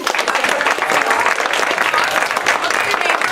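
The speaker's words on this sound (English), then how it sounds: "Clap to yourself." Audience applause fills the room, dense and steady clapping from many hands at close range with no pauses, mixed with faint crowd voices.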